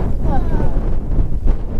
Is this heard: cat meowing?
no